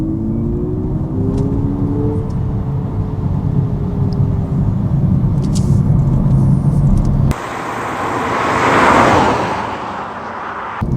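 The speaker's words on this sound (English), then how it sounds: "So that exhaust tone should again become slightly more throaty." Simulated exhaust tone from an Abarth 600e Scorpionissima electric car in Scorpion Street mode on UK B roads, a steady throaty synthetic drone that rises in pitch, then cuts to a rushing swell of wind and road noise.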